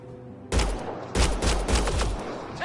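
Bursts of gunfire in the Mass Effect Andromeda sci-fi shooter, loud and close, with a first volley followed by several rapid overlapping shots from about a second on, no talking.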